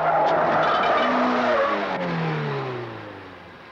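A car with Michelin tyres braking hard on a test track, tyres squealing in a long, loud skid whose pitch slides downward as the car slows, fading near the end; no talking.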